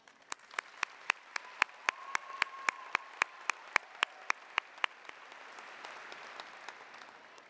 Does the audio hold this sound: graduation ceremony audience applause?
yes